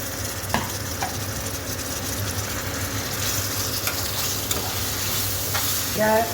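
Tomatoes frying in a pan for pav bhaji, a steady close sizzle with occasional stirring scrapes and clinks, ending in a brief louder clatter.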